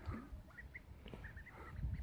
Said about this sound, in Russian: Утки изголодались, прям с рук едят.